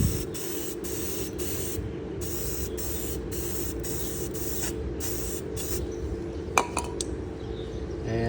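Loctite rust converter hisses from an aerosol can in a series of even spray bursts broken by short pauses, close and steady, with a few light metallic clicks near the end.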